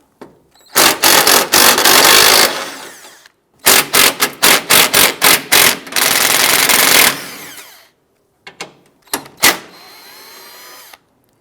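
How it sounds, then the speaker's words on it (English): Power tool bursts loosening 10mm bolts from the radiator support bracket of a 2008-2013 Nissan Rogue: loud, close whirring runs of a few seconds each, several short pulses, then a couple of brief final zips. "Remove these three 10mm bolts."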